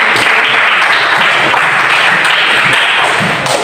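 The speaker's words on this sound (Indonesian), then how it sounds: "Baik, berikan aplaus." Applause fills a classroom, a dense continuous clatter of many hands clapping at once, loud and steady for the whole stretch with no speech over it.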